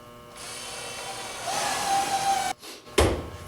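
Power screwdriver driving screws to join wooden cabinet drawer sides at a dado joint: a whirring motor burst rising in pitch, a brief stop, then a sharp clunk and another short whir, close by with no talk.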